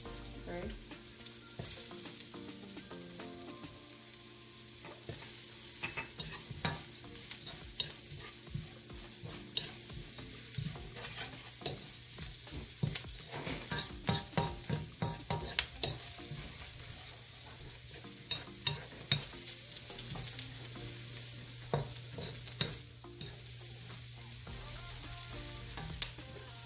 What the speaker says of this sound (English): I mix the chili